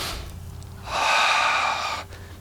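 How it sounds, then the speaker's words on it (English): A person takes one long, deep inhale during a side-splits stretching session, a steady breathy rush lasting about a second, close and clear against a quiet room. "Take another breath in."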